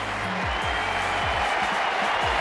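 A cricket crowd at the MCG applauds a batsman reaching his fifty in India versus Pakistan, with sustained clapping and crowd noise. Several low thuds are scattered through it.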